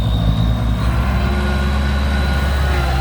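A Kubota tractor engine drones at close range while pushing soil, a steady heavy diesel rumble with a throbbing low pulse that holds throughout, with no talking.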